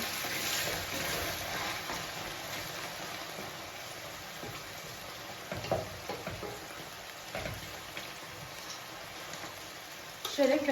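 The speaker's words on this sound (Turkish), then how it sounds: "Tavuklarımı da aynı şekilde yağını koydum. Onlar güzelce kızarsın." Chicken pieces frying in oil in a pan, a steady close sizzle running throughout with occasional clinks and small stirring sounds.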